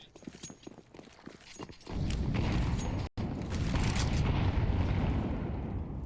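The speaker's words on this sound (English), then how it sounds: "Plenty of nades in forward main." Grenades going off in the Counter-Strike map Nuke during a competitive match: a deep boom about a third of the way in, then a loud sustained roar of blasts and debris, after earlier faint clicks and footsteps.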